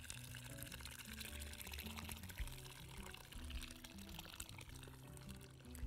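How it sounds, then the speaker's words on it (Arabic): Broth and then hot water pour into a cooking pot for soup, a close, gentle splashing stream that runs on throughout. "ادي المرقه وادي الميه السخنه"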